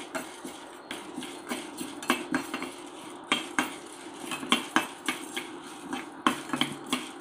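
Ingredients for a curry leaf kuzhambu dry-roasting in a pan, with a spatula clanking and scraping against the metal in irregular close knocks over a low background hiss, and no voices.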